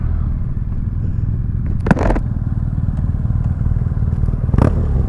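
BMW F800 R motorcycle idling with a steady low engine and exhaust rumble, two short clattering bursts breaking through near the middle and end, no talking.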